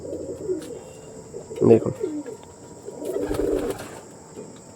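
Pigeons coo nearby in soft, low, rolling bursts, with one louder coo near the middle and another cluster later over a steady faint hum, while someone briefly speaks.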